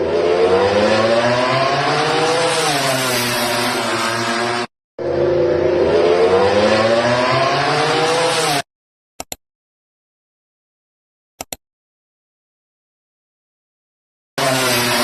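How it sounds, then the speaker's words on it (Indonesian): A loud racing engine revs hard in long sustained bursts, pitch rising and falling, then cuts to near silence with a couple of brief blips before roaring again. "HRC mempertontonkan suara teaser ledakan tenaga, ledakan power, ledakan exhaust dari RC213V"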